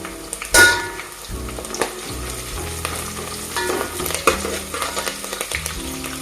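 Onions fry in a pan with oil for mushroom biryani, a steady crackling sizzle broken by the scrape and clatter of a spoon stirring, close and moderately loud.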